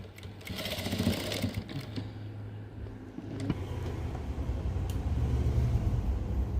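A sewing machine stitches a nightie, giving a steady close mechanical whir in two running bursts separated by a short pause, with no talking.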